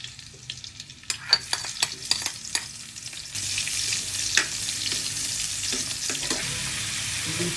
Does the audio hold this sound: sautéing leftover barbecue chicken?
yes